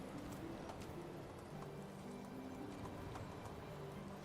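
Horse hooves clip-clopping in the video game Medieval Dynasty, a steady rhythmic trot heard through a dense, constant ambient bed with faint birdsong.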